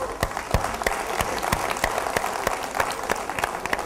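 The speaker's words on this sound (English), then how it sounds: "I'd like you all to give yourselves a huge round of applause" A crowd at a contest finals event claps in a lively round of applause, with distinct sharp hand claps standing out over the steady mass of clapping, close and energetic.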